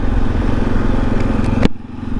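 A Kawasaki KLR650 motorcycle riding on dirt, its engine loud and close with a rumbling tone, clattering over the ground for about a second and a half before cutting off abruptly.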